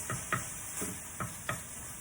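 Yukon yellow potatoes cooking in a pan for a vegan butter bean vegetable mix, a steady soft sizzle with about five light scraping stirs spaced through it, quiet and close.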